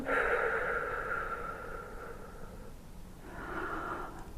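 Slow, deliberate breathing during an abdominal pelvic-floor exercise: a long airy inhale swelling the belly, then a pause and a second breath, close and fairly soft, with no talk.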